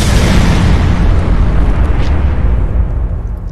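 A grenade explosion in the video game Fallout 4, a loud, close, broadband boom that rumbles and then slowly fades.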